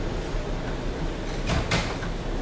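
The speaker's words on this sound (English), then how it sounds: "why are the doors opening again?" New York subway train doors sliding open, two short close whooshing bursts a moment apart over a steady rumbling background.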